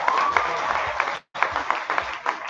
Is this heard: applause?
yes